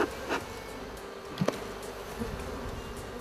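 Honeybees buzz steadily in an opened beehive, a soft continuous drone close by with a few brief louder passes of individual bees, no voices.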